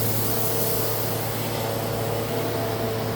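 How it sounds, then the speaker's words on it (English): A steady, loud broadband whoosh of a workshop evacuation fan during plasma cutting runs without pause, with a low hum underneath and no other sounds. "that noise you hear is, again, that's my evacuation fan."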